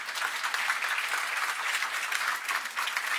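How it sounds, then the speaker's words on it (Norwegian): Audience applause fills a morning climate seminar in a steady, dense patter that sustains evenly throughout. "Du er med en applaus først, selvfølgelig."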